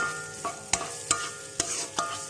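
Garlic sizzles in a hot pan for Indonesian ayam kecap jeruk limau, with a steady frying hiss broken by four or five sharp scrapes of a spatula stirring.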